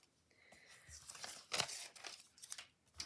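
Sheets of marbleized paper are handled for an art journal, giving soft, close crinkles, rustles and a few sharper crackling bursts, quiet and irregular, with no talking.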